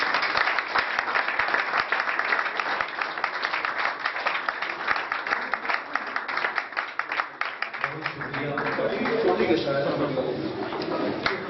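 Audience applause welcomes a guest onto a stage, a dense run of clapping lasting several seconds before a voice takes over near the end.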